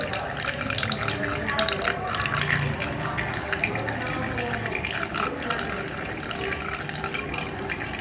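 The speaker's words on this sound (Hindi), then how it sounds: "ये इस डब्बे में डाल लेंगे तेजाब को और उसमें 4-5 पानी या 10-12 पानी डाल के और पारे को साफ करेंगे" Liquid gushes and splashes steadily into a container as acid and water are poured in to clean mercury, a continuous close pouring sound with no talk.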